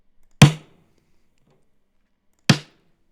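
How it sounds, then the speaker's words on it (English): Lo-fi thud drum samples from a hip hop sample pack, two dull, punchy hits about two seconds apart, each with a short gritty decay, played alone against silence. "these thuds are almost lo-fi, where they kind of have a low fidelity sound to them"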